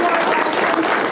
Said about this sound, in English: How about a big round of applause?